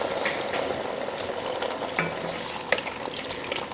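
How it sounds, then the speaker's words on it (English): Beef broth poured into a hot pan to deglaze it while making birria consommé, a busy sizzle with scraping and utensil clinks against the pan, close up and without voices. "Now I'm going to deglaze that with some beef broth."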